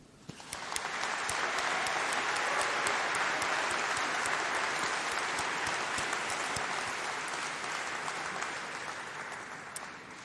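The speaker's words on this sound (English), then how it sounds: "please let's give a round of applause and a huge cheer to say thank you to all of your supporters" A large graduation audience in a ceremony hall breaks into sustained applause, swelling quickly to a dense, even roar of clapping that holds for several seconds before slowly tapering, with occasional sharper claps standing out.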